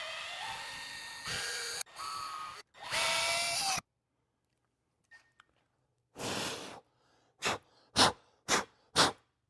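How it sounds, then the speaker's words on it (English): A power drill boring holes to mount a rear wing on a 2025–2026 Chevrolet Corvette C8, heard as several short, close whirring bursts separated by silent pauses, the last few quick and sharp. "I'll drill these other holes"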